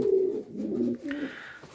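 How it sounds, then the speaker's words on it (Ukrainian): Pouter pigeons coo nearby in a village loft, a low, throaty rolling coo repeated over about two seconds. "Два голуба."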